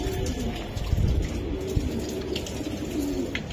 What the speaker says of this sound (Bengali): আর একটা কবুতর ভাই